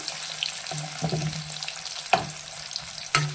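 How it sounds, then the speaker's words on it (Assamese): Raw banana slices frying in mustard oil over a medium flame, a soft steady sizzle broken by a few sharp clacks of a utensil against the pan. "এইখিনি মই ধুনীয়াকৈ একদম ৰঙচুৱা হোৱাকৈ ফ্ৰাই কৰি ল'ম।"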